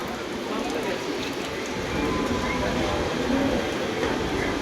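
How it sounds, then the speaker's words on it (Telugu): A train stands at a rain-soaked station, its steady rumble and hiss close by and continuous, with rain noise mixed in and no clear voices over it. "ట్రైన్లో ఉన్నాను"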